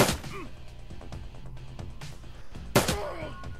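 Gunfire in the cyberpunk tactics game Shadowrun Returns: a sharp shot opens, followed by scattered lighter impacts and a second loud crack near the end, all close and punchy.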